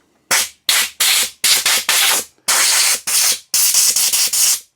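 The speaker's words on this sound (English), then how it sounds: "a blast with compressed air just to make sure that they're free" Compressed air blasts clean the parts of a Trek Rail 5 e-bike's new Magura brake set, with about a dozen loud, sharp hissing bursts of varying length in a quick, irregular series.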